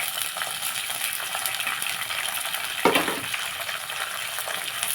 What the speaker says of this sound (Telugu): దీంట్లో మనం పచ్చిమిర్చి కూడా వేసేస్తున్నాం.